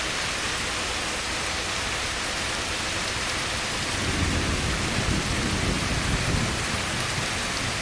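Steady heavy rain hisses throughout in the truck game On The Road, with a low rumble of thunder swelling in the second half; no one talks.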